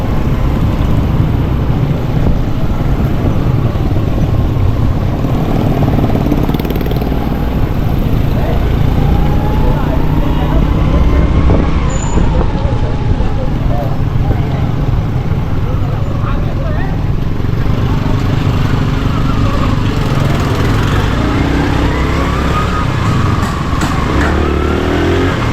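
A motorcycle rides through flooded streets in Karachi after heavy rain, its engine a steady loud drone throughout, with traffic and wet road noise around it and someone talking over the top.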